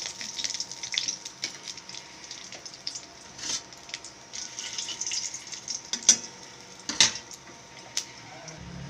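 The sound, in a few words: whole spices (bay leaf, clove, cinnamon, cardamom) frying in oil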